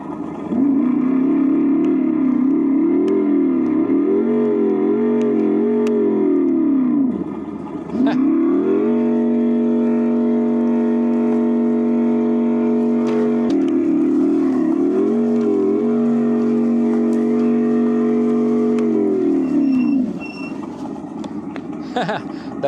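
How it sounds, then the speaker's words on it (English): Simulated V8 motorcycle engine sound from a Windhorse V8MINI ebike while riding, a loud continuous rumble that rises and falls with revving, dipping briefly twice, with people talking over it. "Don't forget we got our motorcycle sounds."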